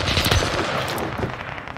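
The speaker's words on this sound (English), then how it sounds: "there's that fucking shooting everywhere there" Rapid gunfire crackles in a video game shooter, a dense, loud burst of overlapping shots that fades slightly toward the end, with no voices.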